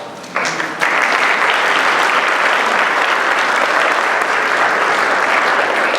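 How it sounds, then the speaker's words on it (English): Steady, sustained applause from a conference audience at a welcome and keynote event, loud and full, continuing without pause for several seconds. "I did nothing to deserve the applause, right?"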